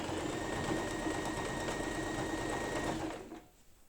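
Sewing machine running steadily while stitching a lining into a knitted bag, a close, continuous mechanical whir that slows and stops near the end.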